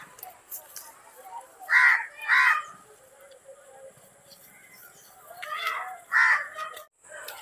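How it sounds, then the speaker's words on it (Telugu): Crows caw near their nest in a tree in two pairs of loud, harsh calls separated by a quieter pause. Faint rustling and background sounds fill the gaps. "కాకులు అయితే అరుస్తున్నాయండి"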